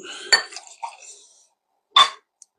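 Heavy lid of a Frank August Small Batch bourbon bottle being handled, giving two sharp clinks about one and a half seconds apart, the first followed by light rattling and knocking, close and clear with no talking.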